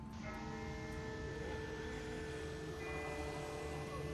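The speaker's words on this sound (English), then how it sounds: "That's not the same bell as before. This one's further off." A far-off bell tolling in The Walking Dead game, faint sustained ringing tones hanging over a dense low rumbling ambience.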